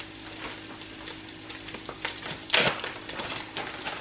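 Frozen vegetables and onions frying in a pan, a steady soft sizzle with a brief louder hiss midway as more food hits the oil, stirring clatter around it.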